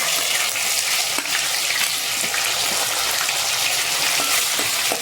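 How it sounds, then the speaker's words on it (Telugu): Dried red chillies sizzle in hot oil in a pan already holding mustard seeds and cumin. The loud, constant frying hiss carries on without a break, close up, with no speech. "ఎండుమిర్చి వేసుకుందామండి. ఇప్పుడు వేసుకున్నామండి."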